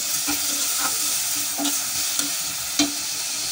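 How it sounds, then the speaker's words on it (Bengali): Prawns fry with onion in a pan, making a loud, steady sizzle punctuated by rhythmic spatula stirs and scrapes, close by and with no talking. "চিংড়াগুলো দিয়ে দিতেছি পেঁয়াজের সাথে, দিয়া একটু হালকা ভাজা ভাজা করে তারপর করলাগুলো দিয়ে দেব"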